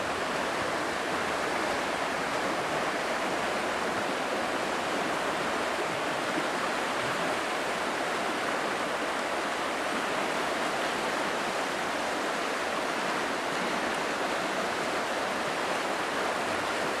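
Fast-flowing water of the Saco River rushes steadily beside Highway 302 near the White Mountains in New Hampshire, a dense, continuous roar with no pauses.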